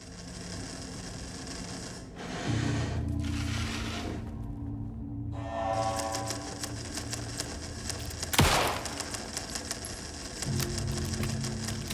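A room full of typewriters in the video game Alan Wake II clacks away in a dense, continuous patter of mechanical clicks and strikes, with one sharp louder crack partway through and a low hum beneath.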